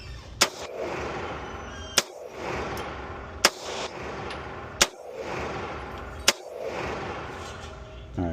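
An HK CC9 pistol fires at a shooting range, giving five sharp, loud shots spaced about a second and a half apart, each followed by a short echoing decay.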